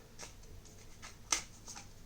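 A deck of cards for the Airborne Commander card game is shuffled by hand in soft, brief riffling bursts with one sharper snap of cards, close and quiet.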